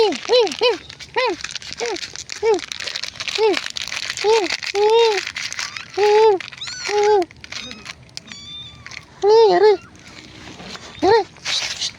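Repeated high, thin meows from several kittens, coming in quick bursts close by, with rustling and crinkling noises and occasional talking in between.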